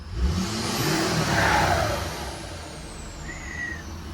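A 2011-2016 Ford Super Duty truck engine revs up and then eases off close by, with a whooshing turbo rush and a whistling spool swelling and fading. No one speaks over it.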